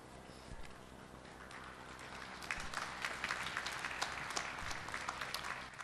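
Audience applause at a university graduation ceremony in a hall, starting light and swelling into fuller, denser clapping from a large crowd after a couple of seconds, continuous to the end.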